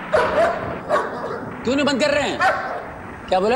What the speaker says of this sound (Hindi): अरे कुत्ते क्यों भौंक रहे हैं, बंद कराओ।